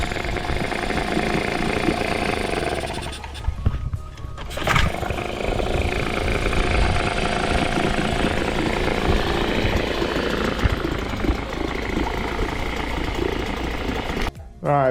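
A 5 horsepower Evinrude outboard motor runs after its carburetor has been cleaned, a steady loud buzzing roar with brief dips and a short cut near the end, heard up close with no talk.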